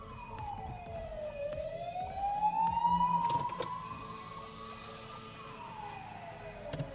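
A police car siren sweeps slowly up and down in pitch as it passes close by a moving car, growing louder at the middle and then fading, with road noise underneath and no talking.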